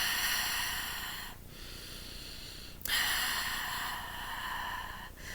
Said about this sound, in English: So you're breathing it in and you're breathing out